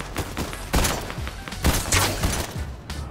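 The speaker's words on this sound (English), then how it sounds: "Shooting at Lara Croft" Rapid gunfire in a shooter video game where players fire at a Lara Croft character: loud, near bursts of overlapping shots with sharp cracks and thuds, repeating in clusters over dense background noise.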